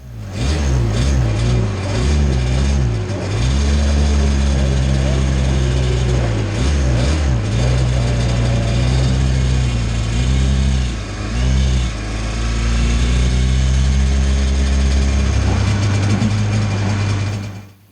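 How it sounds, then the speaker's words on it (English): A Yamaha TZ350 two-stroke racing motorcycle warms up in the paddock before qualifying at Donington, its engine droning loudly and steadily while repeated revs swell and fall back. "Up in the warming up area, making sure the bike's up to temperature just before we go out onto track for qualifying."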